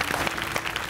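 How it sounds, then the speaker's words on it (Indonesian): Brief burst of studio audience clapping during an Indonesian family talk show, a short dense patter of many hands, moderately loud and steady with no talk over it. "Oke, tepuk tangan dulu dong."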